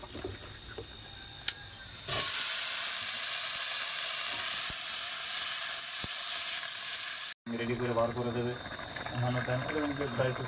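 Fish frying in hot oil in a home kitchen, a loud steady sizzle running for several seconds, then cutting out as talk and clatter take over near the end.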